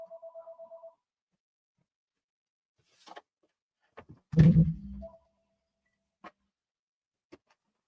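A telephone rings in a short rapid electronic burst at the start, followed by scattered clicks and thumps and a brief rough noise as the handset is picked up.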